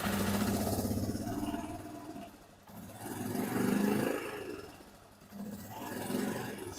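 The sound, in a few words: Suzuki QuadRunner 230 engine test firing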